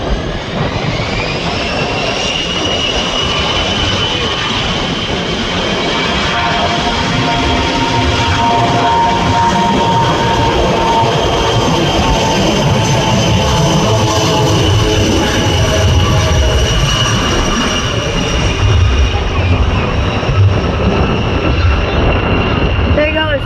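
Private jet, a Mitsubishi, taking off at Green Bay airport: a loud, steady jet engine roar with rising whine that holds throughout, heard from nearby with people talking over it.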